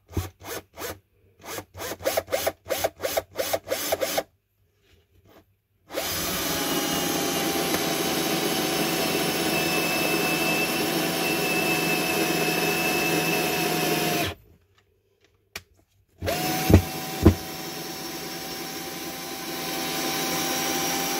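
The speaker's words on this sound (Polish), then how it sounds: "Sprawdźmy sobie jeszcze, czy ten BMS 40 A wystarczy nam, żeby wkręcić sobie takiego wkręta." A cordless Makita 12V drill driver, converted to lithium-ion, driving a 4x70 mm screw: a few short trigger bursts, then a long steady whine of about eight seconds, a pause, and a final brief run.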